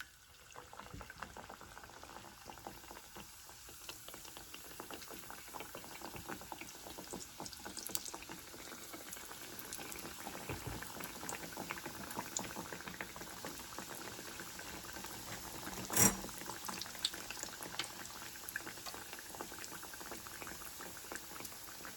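Hot grease seethes and crackles steadily in a pan while beignets fry, a dense continuous bubbling hiss, close and even, with one brief louder clink partway through.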